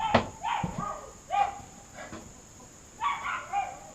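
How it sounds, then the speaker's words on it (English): A new puppy next door, left alone, gives several short high barks and whimpers in irregular bursts, slightly distant with quiet gaps in between. "Poor old puppy next door is new and he's not too happy about being left alone"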